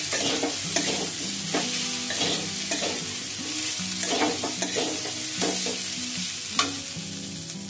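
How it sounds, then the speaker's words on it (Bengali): Kundri curry seasoned with coriander and cumin powder is stirred in a hot pan, giving a steady loud sizzle broken by repeated scraping spatula strokes, with no one speaking. "তারপর আমি এটাকে ভালো করে নাড়াচাড়া করে দেব।"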